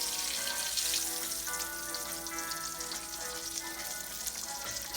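Green tomato slices fry in a pan, giving a steady, close bubbling sizzle with faint popping throughout and no voices.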